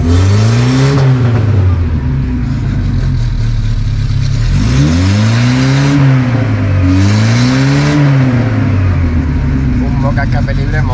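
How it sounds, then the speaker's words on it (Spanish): A Mini Moke's engine with an open exhaust revs loudly up and down in several swelling bursts close by, a raw rasping note, with people talking over it. "escape libre mola, eh."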